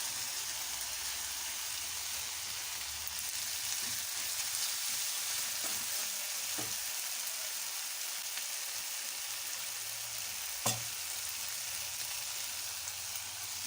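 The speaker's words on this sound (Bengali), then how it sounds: "কষানো মশলার উপর দিয়ে দিচ্ছি সেই পোস্ত, চারমগজ আর কাজুর পেস্টটা" Masala frying in a pan after a paste of poppy seed, melon seed and cashew is added, giving a steady soft sizzle throughout with a few faint stirring clinks and no talk.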